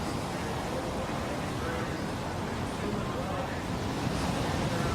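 Ocean surf rumbles and hisses steadily at a professional surfing contest on the Gold Coast, a continuous broad wash of breaking waves with wind buffeting the microphone.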